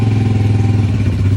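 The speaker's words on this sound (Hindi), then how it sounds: "चलो जी, चल गया जी मोटरसाइकिल।" A motorcycle engine runs at a steady idle, with a close, even, low mechanical chug and light clatter and no voices.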